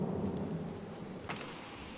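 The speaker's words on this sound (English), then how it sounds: "And hear the thunder." Low rumbling thunder rolls steadily through a stormy night scene in the horror video game Outlast, with rain hissing throughout and a brief brighter crack near the end.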